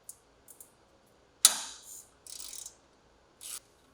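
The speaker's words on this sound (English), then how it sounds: "remove and retain the fastener and washer retaining the stabilizer bar link to the upper control arm" Brief ratcheting bursts and metallic clicks come from a hand tool removing the fastener and washer holding the stabilizer bar link to the upper control arm of a Polaris RZR Trail, in short separated strokes in a quiet shop.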